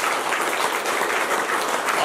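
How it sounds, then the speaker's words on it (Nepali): Audience applause at the closing program of a yoga camp, dense continuous clapping from a large crowd filling the whole moment at steady loudness. "जोरदार ताली बजाउने"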